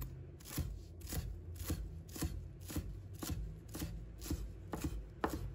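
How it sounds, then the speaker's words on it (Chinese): A knife chops fresh coriander into short pieces on a cutting board for a Chinese cold onion salad, with steady close-up strikes at about two per second and no talking. "把它切成小段"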